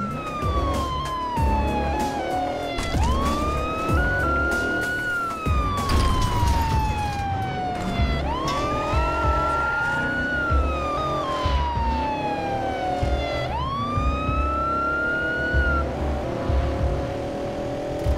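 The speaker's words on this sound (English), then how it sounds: "Do you hear my car alarm?" A wailing electronic car alarm in the video game Crackdown rises and falls in long sweeps over a steady engine rumble, loud and continuous throughout.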